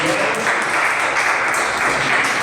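Steady applause from a church congregation, dense continuous clapping at even loudness for a couple of seconds, with no voices standing out.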